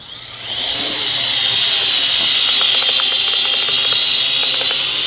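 The motors of a Huajun HJ818 (W609-10) Pathfinder toy drone spin up from near silence into a loud, close, high-pitched whine that rises quickly and then holds steady with slight wavering.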